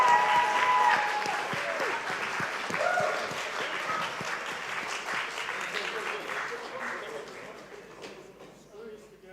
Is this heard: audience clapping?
yes